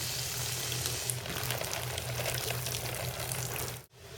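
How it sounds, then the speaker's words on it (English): Water from a throttled hose flooding a 6-inch plant basket to soak it, a steady gushing and splashing rush that runs continuously, close and fairly loud, then cuts off abruptly near the end. "I can throttle my shutoff valve and get the water right into that basket, and I'm flooding it"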